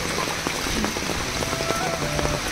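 Steady rain falls and patters on surfaces during a snail-collecting outing on a village farm, a dense continuous hiss with scattered drop ticks and no voices.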